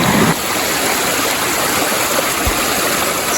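A creek flows steadily along the North Coldwater Creek trail above Coldwater Lake near Mt St Helens, giving a loud, continuous rushing and gurgling wash with no voices.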